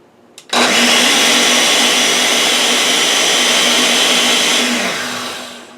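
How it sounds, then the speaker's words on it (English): Ninja blender running on Boost, mixing strawberries and banana into a smoothie: after a brief click, a loud, steady motor whir starts abruptly, holds for about four seconds, then winds down, alone without talk. "Okay, and then we'll give this another mix. I'm doing Boost on the Ninja."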